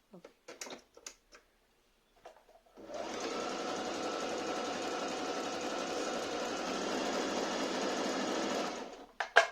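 A Singer Talent sewing machine runs a double stitch in one steady, close whirring burst lasting about six seconds, preceded and followed by a few light mechanical clicks.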